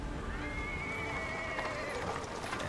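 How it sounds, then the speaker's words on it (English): A horse whinnies in a long wavering call over a steady clatter in the Pathfinder: Wrath of the Righteous video game, as a cart drawn by the horse rolls over paving stones, loud and close. "A cart drawn by a sad little horse appears from around the corner."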